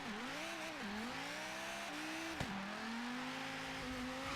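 A GTA Spano supercar engine is pushed to full throttle in Forza Horizon 3, revving up and down in wavering surges with a brief squeal partway through, loud and close with no talking.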